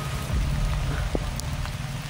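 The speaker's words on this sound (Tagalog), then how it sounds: "umuulan pa rin." Steady rain falls with a continuous hiss and scattered drop patters, plus a low rumbling background; no voices.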